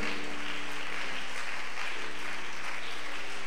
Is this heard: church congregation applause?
yes